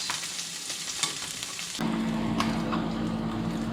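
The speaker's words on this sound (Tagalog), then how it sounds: "We'll saute it first." Garlic scapes hitting hot cooking oil set off a sudden, loud, steady sizzle partway through that continues to the end, after a quieter kitchen background.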